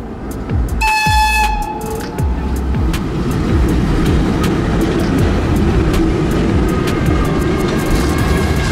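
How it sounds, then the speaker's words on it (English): A very old, slow train in Ternopil, Ukraine rumbles and clatters steadily nearby, with a brief horn toot near the start and rhythmic metallic clicks continuing throughout. "I'm going to take the train. A very slow train, I think."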